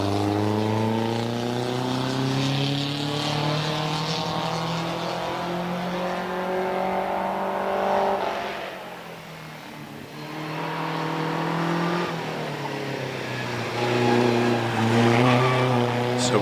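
A vintage racing car pulls away from the start line of the Prescott hill climb, its loud, close engine note climbing steadily with brief dips at the gear changes, then fading slightly as it draws away. No voices.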